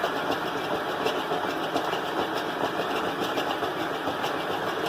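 A planetary stand mixer kneads baguette dough at its lowest speed, making a steady, even motor whir with a faint rhythmic knocking throughout, close and unbroken by talk.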